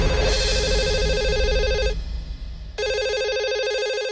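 A home landline telephone rings in an electronic warble, two loud bursts separated by a short pause, close and clear over a faint background hum, with no voices.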